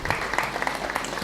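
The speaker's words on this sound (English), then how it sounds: "So you guys should first off clap for him." A workshop audience claps steadily, with dense, overlapping hand claps forming a continuous wash of applause.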